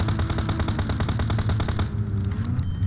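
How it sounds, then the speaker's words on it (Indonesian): Rapid automatic gunfire from a video game is aimed at a car, a dense loud burst of shots that runs for about two seconds and then cuts off. "Tembak aja terus sampai meledak."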